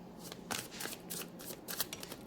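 Tarot cards are shuffled by hand at close range in a run of quick crisp riffles and soft slaps, each burst brief and evenly spaced, with no talking over them.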